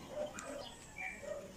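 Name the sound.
bird calling outdoors in the Philippines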